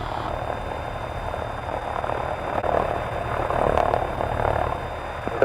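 DC-3 airplane engines drone steadily during landing at Oshkosh, Wisconsin, a continuous propeller hum heard from inside the aircraft that swells slightly toward the end.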